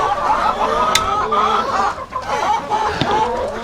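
Several farm chickens cluck and chatter continuously at close range, with overlapping calls forming a steady, busy barnyard murmur.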